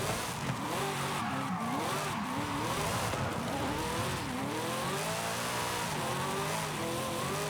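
A V8 drift car in Forza Horizon 5 revs hard and steadily throughout, its engine note rising and falling under a continuous tire squeal as it slides sideways.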